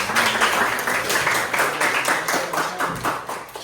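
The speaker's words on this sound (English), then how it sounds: "Give them a round of applause." Audience clapping for a group of students in a lesson setting, moderately loud and continuous with a slightly rhythmic, patterned texture across the few seconds.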